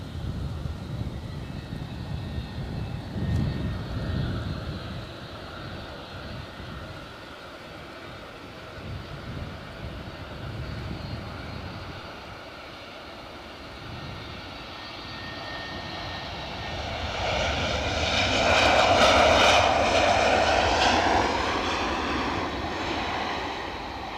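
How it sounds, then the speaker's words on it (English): A KLM airliner arrives at Edinburgh airport. Its jet engine roar holds steady and fairly loud throughout, then swells and whines higher toward the end as the plane passes close. "Got a KLM inbound."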